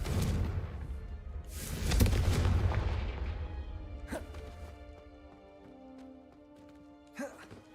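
Confringo fire spell blasts in the Hogwarts Legacy video game: a booming whooshing burst that decays over a few seconds, followed by sharper cracks and a later smaller impact, with a faint game voice and music tones.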